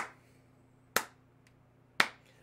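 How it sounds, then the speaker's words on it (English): A slow clap in a courtroom: two sharp, isolated hand claps about a second apart, crisp and close against near silence. "That gets a slow clap."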